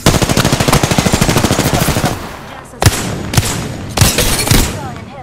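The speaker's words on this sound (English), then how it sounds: "Opening fire." Weapons firing in the Apex Legends video game: a dense automatic burst rattles steadily for about two seconds, then a few separate loud shots crack out over a noisy background.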